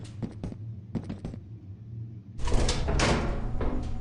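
The bay door in Lethal Company grinding shut: a few short mechanical clicks and thuds, then a louder sustained sliding rumble building to a close near the end.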